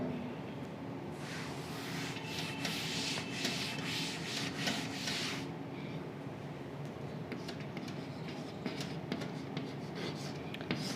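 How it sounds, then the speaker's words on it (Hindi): Pen or pencil scratches across paper as a magnetic field definition is written out by hand, with dense rubbing strokes in the first half, then sparser, lighter marks, heard up close and quiet. "लिखते हैं हम पहले परिभाषा"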